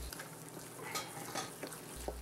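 Cornbread batter hitting hot oil in a cast iron cornbread pan, giving a soft, steady sizzle with faint crackles and a few light scrapes or clinks; close, quiet and continuous, no talking.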